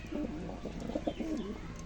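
Pigeons coo in soft, low, warbling phrases that repeat close by, quiet and without any voices.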